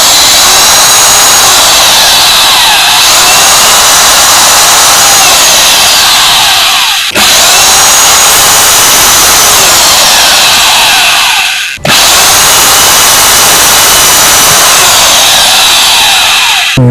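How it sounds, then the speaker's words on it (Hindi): Power drill boring into the plastic casing of an MCB circuit breaker, a loud continuous whining grind in three long runs with brief pauses between them, close up. "इसको यहाँ से ड्रिलिंग करके इसको इनको ओपन कर लेते हैं"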